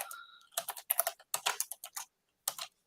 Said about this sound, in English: we have to type out our whole